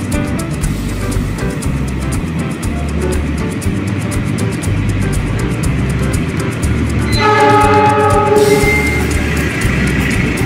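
A Whoosh high-speed train departs from a station platform in Indonesia on a morning run. A steady low rumble and rolling clatter build and grow slightly louder toward the end. A tonal signal or horn sounds partway through, with no speech.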